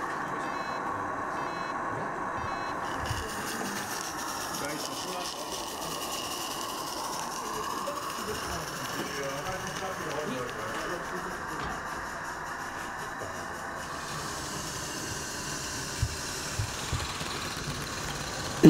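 A live-steam model locomotive on a 45 mm garden railway makes its first wheel turns with water still in its cylinders, giving a steady hissing, sputtering drone throughout, with people talking over it.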